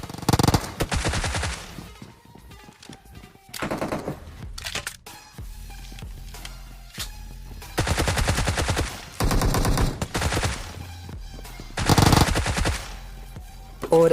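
Automatic gunfire from a mobile shooter game, in several long rapid bursts separated by quieter stretches of movement and game noise, loud and close with no talking.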